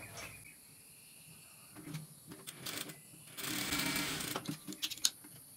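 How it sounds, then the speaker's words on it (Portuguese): A sewing machine stitches fabric along a marked line for a Christmas quilt block, starting with a few short bursts and then a steady, close whirring run of stitching before slowing to a stop. "E passar aqui a costura em cima da risca."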